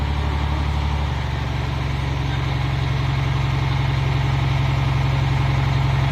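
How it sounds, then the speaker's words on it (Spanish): A Cummins ISM diesel engine runs steadily under throttle during a cylinder cutout test, a loud, close, continuous rumble whose low pitch shifts slightly after the first second. "esta prueba consiste en darle importancia a la caída de revoluciones del cilindro que vamos cortando"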